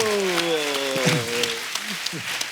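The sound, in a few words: studio audience applause on comedy show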